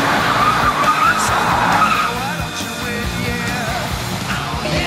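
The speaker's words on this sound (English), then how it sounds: "You gonna do a rapid spin out with the old truck, are you?" Old Ford truck spinning in a burnout, tyres skidding and squealing loudly up close as the engine roars, with faint shouts in the background.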